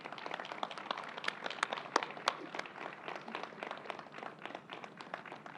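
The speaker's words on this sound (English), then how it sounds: "let's give them another round of applause and welcome Donna Lopardo" Audience applause at a New York COVID briefing, moderate clapping from a modest crowd heard from a distance, steady for several seconds with no talk over it.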